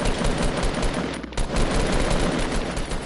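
Rapid automatic gunfire in the Fortnite video game, dense continuous bursts at close range with one brief pause, no voices.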